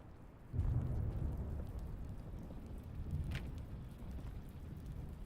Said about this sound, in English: It's horrible. Raining.